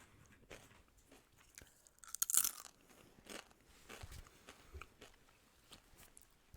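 Close, quiet crunching and biting sounds imitate deer crushing bones in a forest, scattered irregular crunches with one louder cluster in the middle, with no talking.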